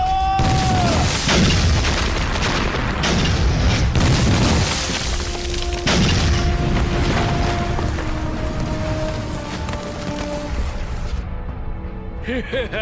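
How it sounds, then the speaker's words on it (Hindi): Heavy booming blasts from bombs in a Hindi movie battle scene against an army, several loud deep explosions with crashing debris, followed by a lower rumbling, tonal stretch of score. "उन्हें बम से उड़ा दो।"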